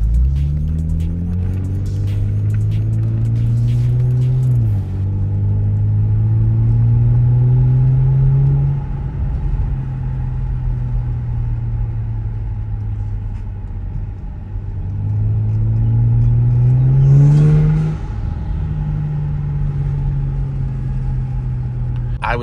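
Kia Stinger engine and exhaust rumble heard from inside the car with the window rolled down on a cold day, a steady low drone rising in pitch twice with throttle, gurgling swells near 5 and 17 seconds.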